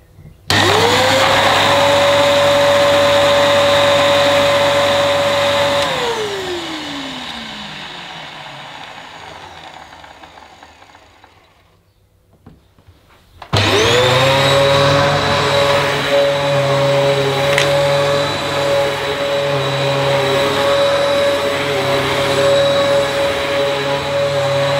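A Dyson DC14 upright vacuum cleaner runs loud and close, its motor whine rising to full speed, then spinning down to near silence when switched off, then roaring back on and running steadily.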